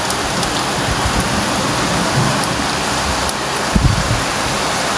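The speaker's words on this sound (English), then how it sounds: "The sounds of the raindrops touching the ground and the rooftops created such peaceful rhythm." Steady rain pours down, a dense even hiss of drops striking hard surfaces, with a few louder splashes close by.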